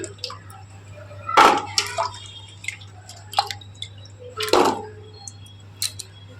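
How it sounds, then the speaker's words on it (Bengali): Cut potatoes are rinsed in water in a home kitchen. Close, irregular splashes and drips come in scattered bursts over a quiet low hum, with no talking. "তো আলুটা আমি ধুয়ে নিচ্ছি"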